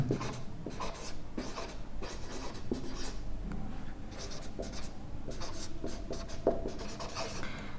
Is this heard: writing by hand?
yes